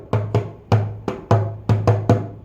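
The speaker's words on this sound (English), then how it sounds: "the drum break is a way, if you're the musician, sounds like this." A solo kassa drum plays a short syncopated break pattern of seven sharp, resonant strikes with deep booming tones, close and loud.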